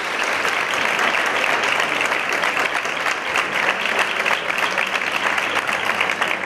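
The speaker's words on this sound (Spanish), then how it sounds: "Un fortísimo aplauso" Audience at a municipal awards gala applauds a singer and her guitarist, a sustained, dense roar of many hands clapping that stays loud and even throughout.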